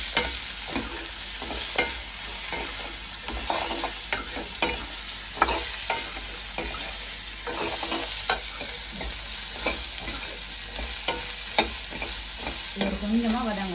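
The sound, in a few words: sautéing cucumber with onion and green chili in oil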